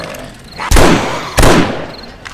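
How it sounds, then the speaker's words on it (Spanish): Two loud, booming gunshots fire about a second apart in the video game 7 Days to Die Alpha 17, each with a rumbling tail, over a busy game background. "Vamos a darle balazo."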